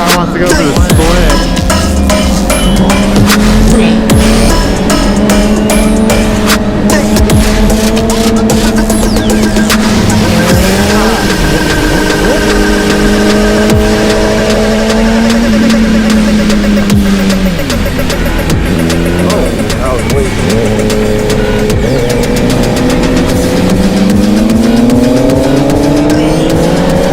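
A racing car engine drones loud and close throughout, its pitch climbing and dipping as the car works for a split in traffic, with other engines mixed in and no talk.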